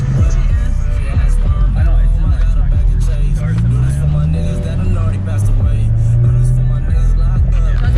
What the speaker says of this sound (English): And that's the M3. That's the M3 pull right there for y'all.